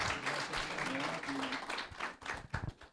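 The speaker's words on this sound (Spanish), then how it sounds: "Un aplauso para ellos." An audience at a report launch event in Colombia applauds, a sustained patter of many hands, soft and somewhat distant, with voices and a faint tone beneath it before the clapping thins out.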